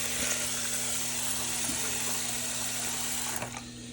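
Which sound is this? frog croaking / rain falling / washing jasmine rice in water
washing jasmine rice in water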